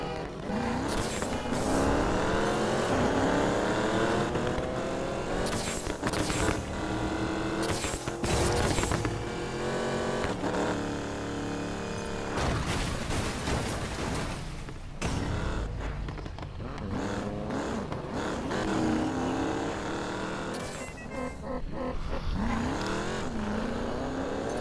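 Racing car engines in the Need for Speed Payback video game, loud revving and gear-shifting whines rising and falling repeatedly, with cars roaring past and brief tire squeals, close and continuous.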